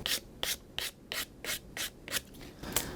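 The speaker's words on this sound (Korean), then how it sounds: "그리고 조금 단면을 마무리하고 싶을 때는 이렇게 사포로 한쪽 방향으로 이렇게 문질러 주시면 되겠습니다." Sandpaper rubs one way along the cut edge of leather in about nine quick, evenly spaced scratchy strokes, close and fairly quiet with short pauses between passes.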